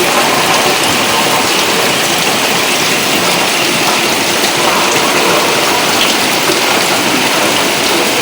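A sudden heavy rain pours down in an unbroken, loud, dense hiss of drops beating on surfaces, filling every moment.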